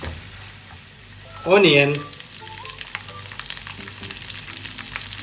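Crushed red chilli and onion sautéing in a hot pan for a chilli paneer dish, a loud sizzling burst around the middle that settles into a steady lower frying hiss with light stirring.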